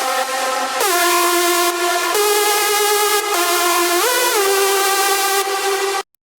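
Three layered hardstyle synth leads, built in FL Studio, play a melody together. The bright, buzzy, horn-like sound is loud and sustained, with note changes and a short pitch bend, and it cuts off abruptly into silence at the end.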